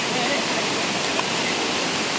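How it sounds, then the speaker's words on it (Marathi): A mountain spring stream pours down from the hills at Marleshwar, giving a loud, steady, close rush of water that holds unbroken for the whole stretch. "त्या डोंगरातून जो झरा वाहतोय तो हा बघा, हा झरा."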